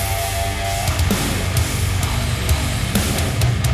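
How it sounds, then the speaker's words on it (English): A snare drum layered from a direct one-shot and a room one-shot sample, hitting in a steady pattern inside a dense full mix of drums and guitars, punchy and loud. "Just a direct snare one shot mixed in with the room sample one shot"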